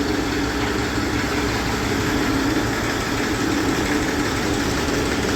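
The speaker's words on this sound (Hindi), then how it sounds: "क्योंकि ट्रैक्टर काम कर रहा है, कोई दिक्कत नहीं है।" A Massey Ferguson 35 tractor engine idles steadily and loudly up close, a continuous low rumble with no pauses.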